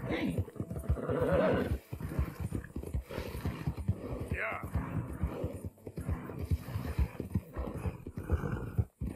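A galloping horse in Red Dead Redemption 2 pounds out hoofbeats and lets out neighs and snorts, up close and persistent, with someone talking over the action.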